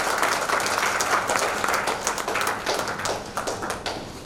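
A conference audience in India claps to welcome guests, a dense, lively burst of applause from a crowd that stays loud and steady for several seconds with no speech over it.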